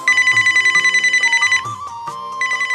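A phone rings for an incoming call, a loud electronic ringtone pulsing in a quick repeated pattern. It cuts off briefly, then resumes, with music playing underneath.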